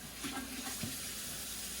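Cold tap water running steadily into a cooking pot for wontons, a continuous close rushing splash with no talk over it.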